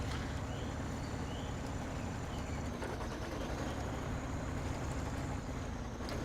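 A tractor engine in the video game Snowrunner drones steadily through a farming field, a constant low rumble with a faint whine above it and no breaks, heard alone.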